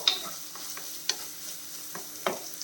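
Small onions sautéing in a pan until half softened for a fishless curry, with a faint steady sizzle broken by a few sharp clinks and scrapes of a stirring spoon.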